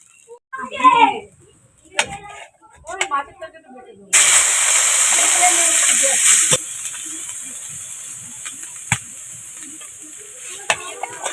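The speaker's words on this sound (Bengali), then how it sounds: "কড়াতে তেল দিয়ে দিয়েছি এবার শুকনো লঙ্কা তেজপাতা ফোড়ন দিয়ে দেবো" Dried red chilli and bay leaf hit hot oil in a kadai with a sudden loud sizzle that settles into a steady hiss, after a few brief bursts of a voice talking.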